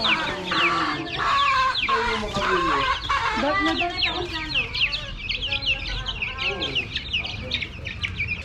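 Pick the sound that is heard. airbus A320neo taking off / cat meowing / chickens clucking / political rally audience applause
chickens clucking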